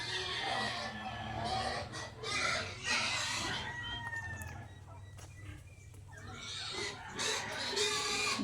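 Farm pigs grunting and squealing alongside clucking chickens in a rural Filipino setting, a busy, continuous mix of animal calls at moderate distance throughout.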